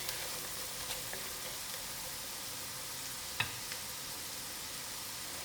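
Turmeric and masala with curry leaf cooking out in a pan, a steady soft sizzle of frying with one brief sharp tap partway through.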